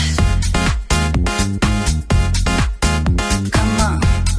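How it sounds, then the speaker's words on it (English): Steady four-on-the-floor house groove with punchy kicks, bass and bright synth chords, loud and continuous, generated by AI software. "I also made a house, or let's say housey track."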